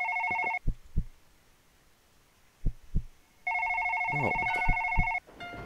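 A telephone rings in two electronic bursts, one brief and one longer, separated by a few thuds of handling, and a voice briefly speaks near the end.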